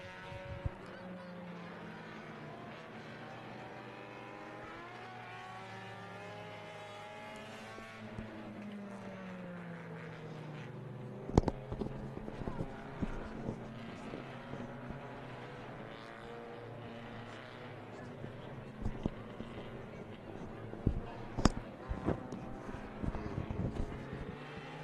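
Race cars circle River City Speedway, engine tones rising and falling as they pass at a distance, with a few sharp knocks and a faint voice in the background.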